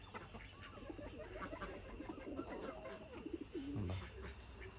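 Pigeons cooing softly close by in a rainy-season setting, a low repeated burbling coo rising near the end over steady background noise.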